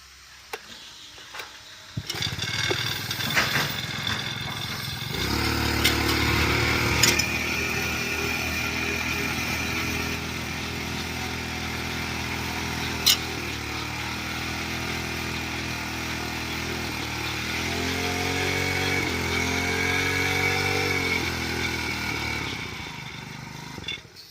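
A 95cc five-row paddy weeder engine starts and settles into a steady, loud running drone, with a few clanks and a slight rise in revs near the end.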